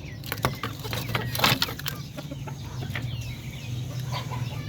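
Native Darag and Paraoakan chickens and roosters on a farm, clucking and calling in a busy, steady mix with occasional louder squawks over a low constant hum.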